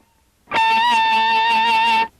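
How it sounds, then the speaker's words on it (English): A single distorted electric guitar note, struck with the very edge of the pick for a biting attack, rings out loud and sustained for about a second and a half before stopping cleanly, no talk over it. "I'm holding the very edge of the pick and getting that bite sound for the very first note"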